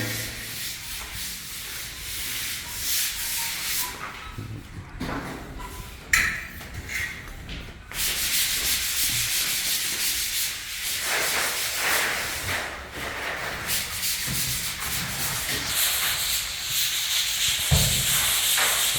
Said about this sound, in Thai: ไล่ขัด ไล่ขัดลงมาแล้วครับ